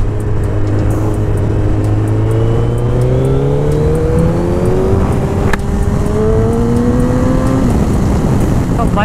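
A modified Yamaha R15M motorcycle makes a fast fly-by, its engine note climbing and falling as it passes close and loud over steady wind and road noise.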